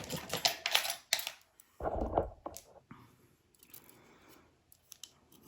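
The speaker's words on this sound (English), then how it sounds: "I'm just going to cut a piece like this." Wire snipped for winding a coil, heard as several crisp close cutter snips and clicks in a quiet room, with a longer, heavier crunch midway.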